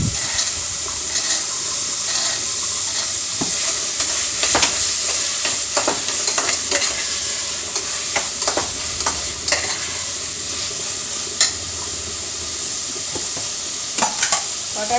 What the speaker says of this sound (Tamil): நல்லா தக்காளி வந்து வதங்கி வருது